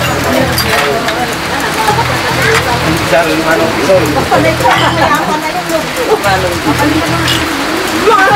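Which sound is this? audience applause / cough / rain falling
rain falling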